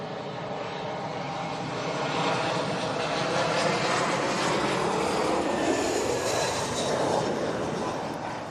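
British Airways plane passing at London Heathrow Airport, a broad roaring jet rush that swells to a peak midway and holds, heard from a distance with no talk.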